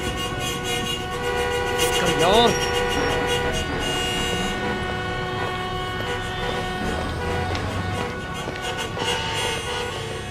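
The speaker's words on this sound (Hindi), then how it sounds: "तू हॉर्न बजा रहा है।" A car horn honks repeatedly at night outside a house, the loud blasts mixed with engine noise while people shout and talk over it.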